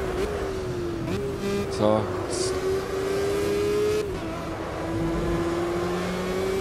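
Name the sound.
Formula Gulf race car accelerating, video game Project Cars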